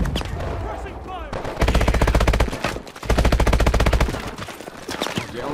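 Rapid bursts of automatic gunfire in the video game Call of Duty: Advanced Warfare, loud and close, with two long sustained volleys separated by brief pauses.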